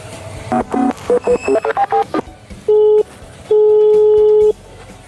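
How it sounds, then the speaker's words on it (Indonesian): A telephone is dialed, a quick run of about ten short keypad tones, then two longer steady ringback tones with brief room noise between. "Kalau gitu aku telepon aja deh."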